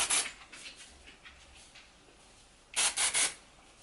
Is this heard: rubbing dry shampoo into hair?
yes